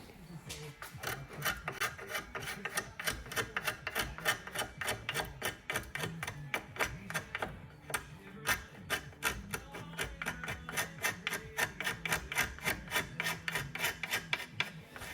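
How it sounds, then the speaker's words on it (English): Steady rhythmic rasping of a file or sanding block worked back and forth across the surfaces of a small wooden piece, close and continuous, with no talk. "we're going to clean up these surfaces and get this glued back together nicely"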